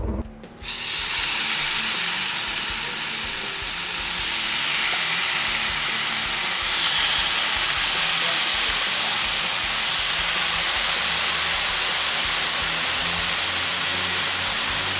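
A buffalo burger patty sizzles hard in a hot pan, a loud, steady, hissing fry that starts abruptly and holds for the whole stretch.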